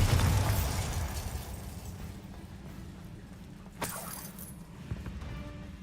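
A Bombarda blasting spell goes off in Hogwarts Legacy: a loud burst at the start fades into a low rumble, followed by a sharp crack and a smaller pop later on.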